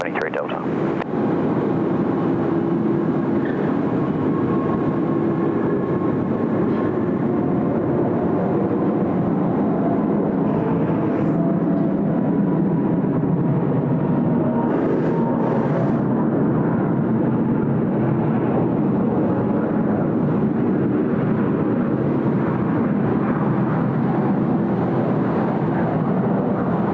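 Singapore Airlines flight 232 departs Sydney Airport, a long, loud, steady jet engine roar mixed with wind noise, with radio and voices talking over it.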